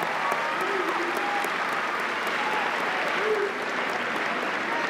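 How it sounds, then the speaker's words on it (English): High school graduating seniors at a Dallas ceremony applaud, a broad, continuous wash of clapping from a large crowd in an arena, sustained evenly throughout with a faint voice or whistle briefly rising above it. "Seniors, give your parents a round of applause for their continued support and enduring love."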